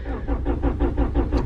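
A slammed Honda Prelude with a suspected fuel delivery problem cranks without catching, the starter churning in a rapid, even rhythm of pulses, loud and close.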